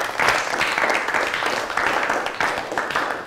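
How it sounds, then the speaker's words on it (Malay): A class of Year 6 pupils in a science lesson on food preservation claps for themselves. The applause is brief and fairly loud, with the clapping coming in uneven waves and no talking over it. "beri tepukan untuk diri masing-masing"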